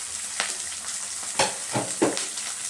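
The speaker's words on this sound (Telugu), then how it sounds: "మునగాకు అయితే ఫ్రై చేద్దాం." Drumstick (moringa) leaves fry in a pan on a stove, giving a steady close sizzle broken by a few sharper crackling bursts from stirring.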